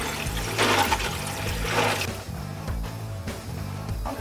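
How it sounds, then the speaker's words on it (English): Water pours into a bicycle wheel mold that is being filled to freeze into a solid ice wheel. The gushing, splashing flow comes in surges, with a low musical bed underneath. "Let's fill it with water."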